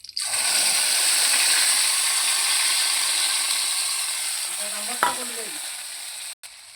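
Tomato and ginger paste frying in a pan, a loud close sizzle that starts abruptly and slowly fades, with a brief scrape or stir near the end and no voices.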